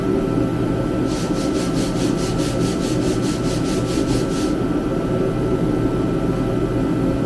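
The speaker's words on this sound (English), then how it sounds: "you can't start off with a heavy grit like 60 grit like I'm doing" Coarse 60 grit sandpaper rubbed over a car body, a steady rhythmic scraping of about a dozen quick strokes for roughly three seconds, close by, over a constant low background hum.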